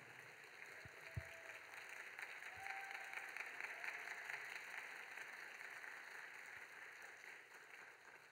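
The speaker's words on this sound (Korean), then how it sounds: "우리 인사하실 때 크게 박수로 환영해 주시기 바랍니다." A church youth congregation applauds to welcome a new minister, steady dense clapping from a large crowd that holds evenly throughout, with a few scattered thumps near the start and no talking.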